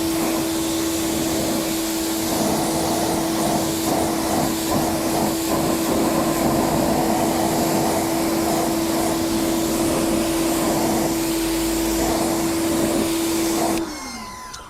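Water spray rinsing a car tyre and wheel after a tyre cleaner, a steady loud hiss with a constant tonal whine underneath, running continuously for about fourteen seconds before stopping abruptly.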